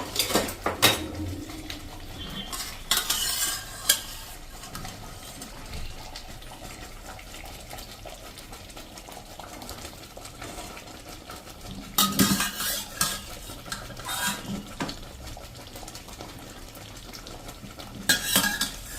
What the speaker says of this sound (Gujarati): હવે આપણે આ જે સરગવાની સિંગ બાફી છે ને એ પણ આપણે આમાં એડ કરી દઈશું